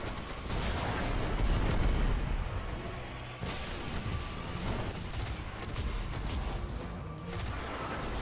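Rockets exploding on centurion enemies in the shooter game Destiny, several heavy booms and blasts layered with mechanical clanks and rumble, a big hit near two seconds and another burst around three and a half seconds.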